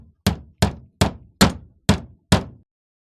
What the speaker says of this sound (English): And H is for hammer.